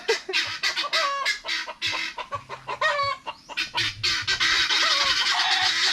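Pet Bengala chickens cluck loudly and repeatedly, close by, in a busy run of overlapping calls that thickens into a steady clamor toward the end.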